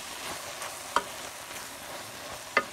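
Bread stuffing dressing stirred in a pan beside roast chicken, a soft steady sizzle with two sharp utensil clicks against the pan.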